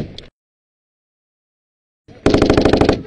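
Machine gun suppressing fire in a live battle between US Army troops and Taliban fighters: a brief burst, a long silence, then a loud close sustained rattle of rapid evenly spaced shots.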